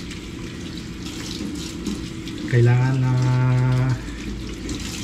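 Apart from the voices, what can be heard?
water running from a sink tap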